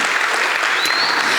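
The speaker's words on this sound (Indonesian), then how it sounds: "Tepuk tangan dong untuk teater kita ya." A hall audience gives a theatre group steady, dense applause, many hands clapping together in a brief, loud burst with no pause.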